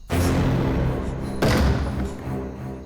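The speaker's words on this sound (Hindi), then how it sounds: "दरवाजा खटखटाना बंद करो।" Knocks land on a door in a tense indoor scene from a crime drama: two heavy, loud thuds about a second apart, each followed by a lingering low rumble.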